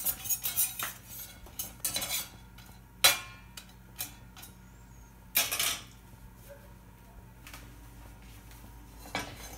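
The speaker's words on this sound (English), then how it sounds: "Pull the almonds out of the oven and transfer them to a cool bowl to stop cooking." Toasted almonds tipped from a hot pan into a cool bowl: a run of sharp clinks and clatters of metal and nuts against the dish, loudest near the start and middle, with quieter scraping between and no talking.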